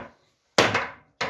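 A wooden barrel being struck with a hammer while its head is fitted: two loud, close, sharp blows on wood, the first ringing for about half a second before the second lands.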